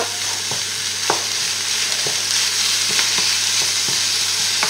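Minced meat for a bolognese sauce sizzles loudly in a pan while a spatula stirs it, giving a steady frying hiss broken by regular scraping knocks about every second, with no talking.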